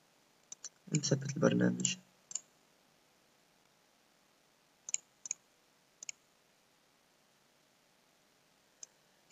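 Sharp, faint computer mouse clicks come one at a time and in quick pairs while a program is installed, spread out with long quiet gaps, and someone speaks briefly near the start.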